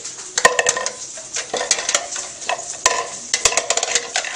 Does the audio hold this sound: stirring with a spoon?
yes